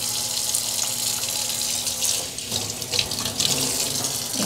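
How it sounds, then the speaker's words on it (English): Distilled water runs steadily from a tap or bottle over enamel pieces in a sink, a continuous close splashing rush with no talking. "And let's rinse them with some distilled."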